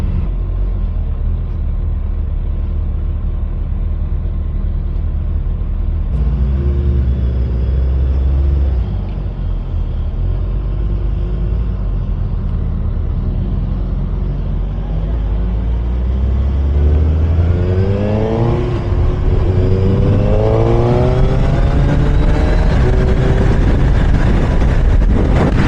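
The engine of a Suzuki motorcycle rumbles loudly and steadily while riding, with rising and falling revs as the bike accelerates, under heavy wind noise and no talking.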